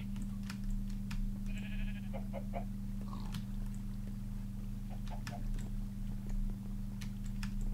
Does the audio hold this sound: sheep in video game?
yes